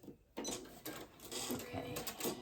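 A sewing machine back stitching on a braided twist placemat, opening with a short quiet moment, then several rapid mechanical bursts of needle clatter in quick succession, close and fairly loud.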